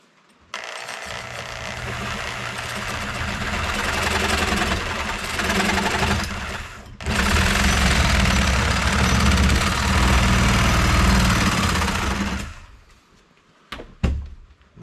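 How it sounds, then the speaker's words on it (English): A Sawzall reciprocating saw cuts through a piece clamped in a vise, with a loud, steady, buzzing run, a brief pause, then a second long stretch before it stops, followed by a couple of sharp knocks. "we're going to set it in a vise. We're going to leave out just shy of ½ an inch. And we're going to come through with the Sawzall."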